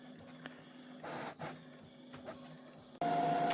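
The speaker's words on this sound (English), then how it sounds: "Yep, it is going to print the test page." A sublimation printer runs a test page with soft, intermittent mechanical whirs and clicks in a quiet room, then a louder steady motor hum kicks in near the end.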